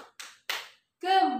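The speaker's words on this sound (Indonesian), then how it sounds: "Tepuk tangan" Three sharp, evenly spaced hand claps ring out in a classroom clapping game, followed by a short burst of a voice.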